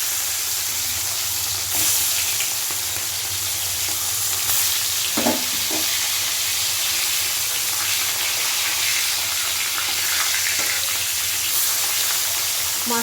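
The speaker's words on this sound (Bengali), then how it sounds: "আর এদিকে একে একে কিন্তু মাছগুলো আমি তেলের ভেতর দিয়ে ভেজে নেব" Fish frying in hot mustard oil gives a steady, close sizzle with a crackling hiss and a few brief clinks and stirring sounds, no voices.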